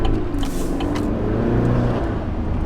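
A 2022 Chevy Silverado Custom pickup with a 4-cylinder turbo engine pulls hard under acceleration, giving a loud, steady drone with a rising engine tone, heard from inside the cab with no talking.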